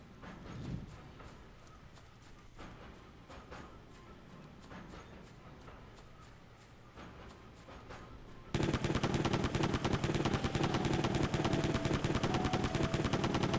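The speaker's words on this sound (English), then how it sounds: "Let's do the machine gun." Rapid machine-gun fire from a Nintendo Switch video game bursts in loud and continuous for the last several seconds, after a quieter stretch of game sounds with clopping steps and scattered shots.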